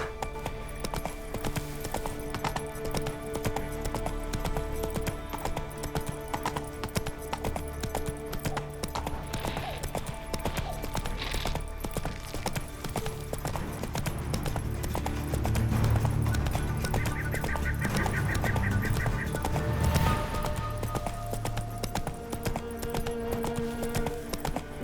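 Horse hooves gallop steadily in The Witcher 3 game, a continuous loud clip-clop over a layered game soundscape of music and ambience, with a brief whinny and occasional voices partway through.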